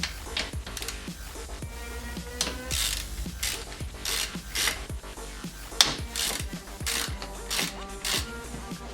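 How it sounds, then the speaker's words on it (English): A socket ratchet backs out the 10mm bolts holding the bypass valve on a Mazdaspeed3, with rapid metallic clicking in repeated strokes, loud and close, and nobody talking. "We will now be removing the two 10mm bolts holding on the bypass valve."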